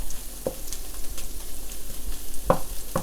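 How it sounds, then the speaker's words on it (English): Onion, ginger, chili peppers and whole peppercorns stir-frying in hot oil, with a steady sizzle and a few sharp clinks of a utensil against the pan. "Starting with the onion and ginger. Just until fragrant, going in with the chili peppers and peppercorns"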